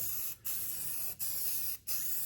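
Steady aerosol spray paint hissing up close, interrupted by three short breaks as the nozzle is released and pressed again.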